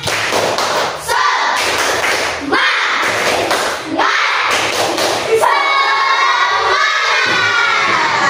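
A class of schoolchildren performs a rhythmic 'tepuk semangat' spirit clap, loud patterned bursts of clapping and thumping mixed with excited chanting and shouting voices, repeated in several close, energetic rounds.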